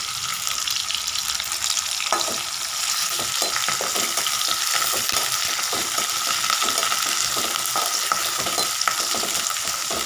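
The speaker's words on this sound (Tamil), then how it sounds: "இப்போ கருவேப்பிலை போட்டுக்கலாம்" Curry leaves fry in hot oil for samai upma, giving a loud continuous crackling sizzle close by, with scattered stirring scrapes and pops running throughout.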